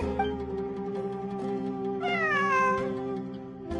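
A cat meows repeatedly in Genshin Impact, loud and close, with a long rising-and-falling yowl in the middle, all over a steady humming game backdrop with no talk.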